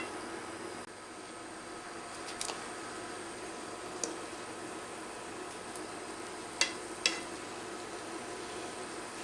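A lemon meringue donut frying in oil gives a soft, steady sizzle with a few small crackling pops scattered through it, quiet and alone.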